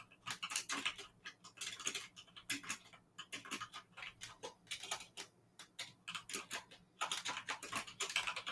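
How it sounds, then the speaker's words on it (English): Rapid typing on a computer keyboard, close and crisp, with bursts of clicking keystrokes broken by brief pauses. "Do you enjoy my typing sounds, guys?"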